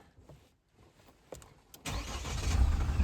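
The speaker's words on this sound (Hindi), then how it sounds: "एक बार आवाज देखो भाई गाड़ी कैसे आवाज कर रही है।" A Mahindra Thar Roxx starts in freezing cold: a few faint clicks and cranking sounds, then the engine catches and rises into a loud, rough, rumbling idle that grows stronger toward the end.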